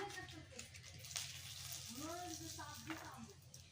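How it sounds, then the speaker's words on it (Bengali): A bay leaf goes into a little hot oil left from frying fish, giving a soft, steady sizzle and spatter that runs quietly beneath someone talking. "ফোড়নে দিয়ে দিলাম তেজপাতা"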